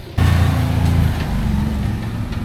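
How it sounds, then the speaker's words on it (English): A four-wheeler taxi on Isla Holbox, an island where golf carts and souped-up golf carts fill the roads, drives by close and loud with a steady mid-pitched engine drone that starts abruptly and holds throughout. "primarily they are what you just saw drive by, which is these four-wheeler kind of taxis"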